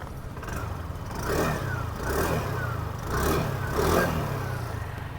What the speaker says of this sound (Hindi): और दूसरा है इसका एग्जॉस्ट नोट।